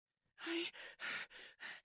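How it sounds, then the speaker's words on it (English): Quick, close breaths come in a rapid series of five or six sharp gasping inhales and exhales, loud and alone after a brief silence. "And then she began breathing really quickly."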